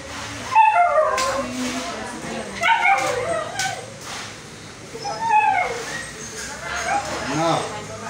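A dog gives a run of high whimpers and short yips at close range, some rising and falling in pitch, mixed with people talking around it.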